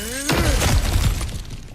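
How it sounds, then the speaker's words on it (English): A breakable object is smashed apart in God of War Ragnarok, a loud, close crash of shattering material with a heavy thud and scattering debris that rings out and fades over about a second and a half, a faint tone fading just before. "Ah, back to smashing through things for fun and profit."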